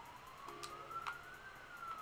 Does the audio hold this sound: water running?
no